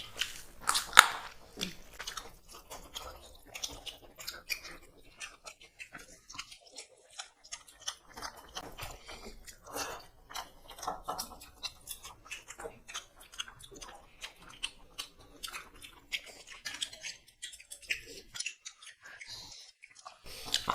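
Soft, close eating sounds of someone chewing and biting into tender boiled duck meat with rice, a scatter of quiet wet crunches and clicks over about twenty seconds with no talking.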